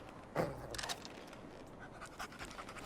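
A dog in the video game Remnant II pants in quick, close, breathy bursts with a few faint whimpery catches; no talking.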